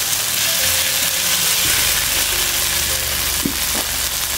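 Ground ginger, cumin and chili paste sizzling in a hot pan as a vegetable curry begins cooking, a loud steady frying hiss throughout with a few soft stirring knocks.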